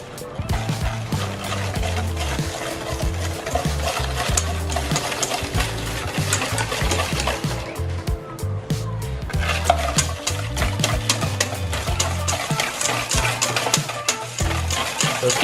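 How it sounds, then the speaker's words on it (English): Milk is whisked into a cream for a peach tart filling, a fast, continuous rhythmic clatter and sloshing of a whisk in a bowl, loud and close throughout, with no one speaking. "So keep whisking."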